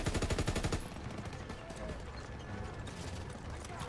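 An MG-42 machine gun fires a rapid rhythmic burst in the Call of Duty WW2 game, then gives way to a steady din of battle noise and distant gunfire.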